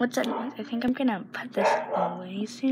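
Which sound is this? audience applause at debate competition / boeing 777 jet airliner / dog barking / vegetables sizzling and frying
dog barking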